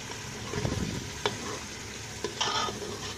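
Chicken with ground onion and yogurt paste sizzles steadily in a pan for a korma, with a few sharp stirring scrapes and knocks cutting through the continuous frying hiss.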